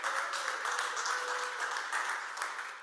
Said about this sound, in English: While you're applauding